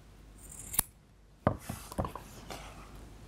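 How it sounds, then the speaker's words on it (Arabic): Scissors snip yarn while a yarn doll is trimmed to length, a few sharp close cuts spaced apart in a quiet room with no talking. "نقص شوية عشان طوال."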